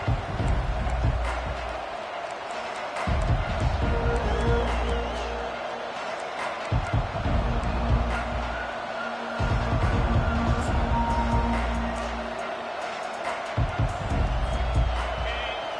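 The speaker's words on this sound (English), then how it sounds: "They challenge this crowd to bring the energy, and I'd say they're doing that" Stadium crowd roaring at a college football game between Michigan and Ohio State, a sustained loud wash of cheering and whoops with thumping surges, while a commentator talks over it.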